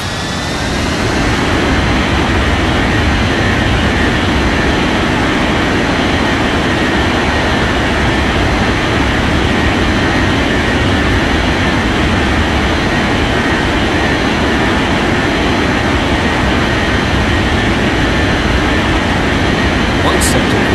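A loud, steady jet engine roar fills the whole stretch as an airliner in the Unmatched Air Traffic Control game takes off from runway 32 left, a constant dense rumble with no clear change in level.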